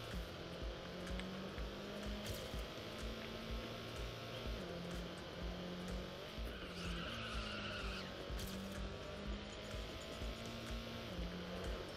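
A car drifts with tires skidding and squealing continuously in a racing video game, the engine note stepping up and down through gear shifts under steady, loud tire noise with no talk.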